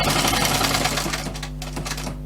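A sewing machine stitches a Velcro strip onto a bushcraft water bottle pouch, its steady dense mechanical whirr running loud and close throughout, easing slightly toward the end.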